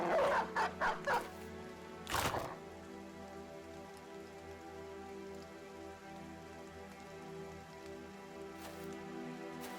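A war dog in the Battle Brothers video game gives a quick run of four or five sharp barks at the start, followed by a steady rain-like hiss with one brief louder burst.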